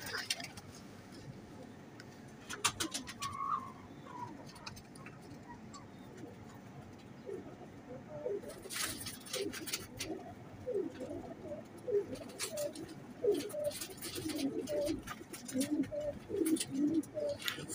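A teddy pigeon, a frozpuri breed male, coos in repeated low throaty calls close by, with other birds chirping faintly and someone speaking at moments.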